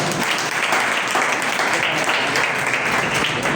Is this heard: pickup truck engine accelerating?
no